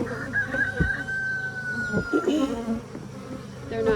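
Honeybees buzz in an opened beehive, a steady close drone with a sustained higher whine, brief knocks and a rooster or fowl calling faintly in the background.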